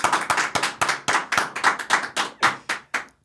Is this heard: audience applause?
yes